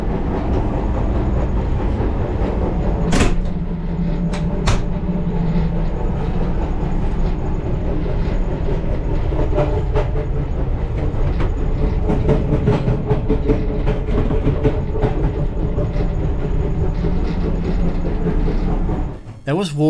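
An Egyptian sleeper train runs on its rails between Cairo and Luxor, a loud continuous rumble of wheels and car rattle with a few sharp clanks and a brief squeal near the end.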